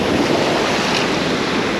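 Strong wind roars over the sea at Lazarevskoye near Sochi as waves surge, a loud continuous broadband rush with buffeting wind noise on the microphone.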